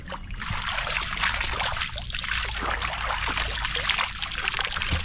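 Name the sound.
clear water trickling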